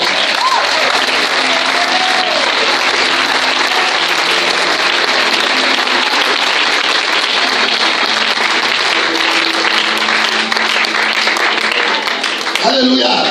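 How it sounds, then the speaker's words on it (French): A church congregation applauding loudly and continuously, dense clapping filling the room with voices mixed in, tapering off at the very end. "Acclame très fort le Seigneur."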